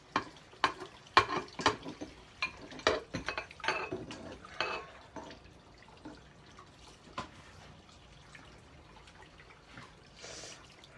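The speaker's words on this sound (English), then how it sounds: "I'll let those eggs boil over a little bit longer while I finish my dishes in the sink here." Dishes being washed in a kitchen sink, with clinking cutlery and plates and splashing water in irregular bursts, louder early on and then quieter, while eggs boil nearby.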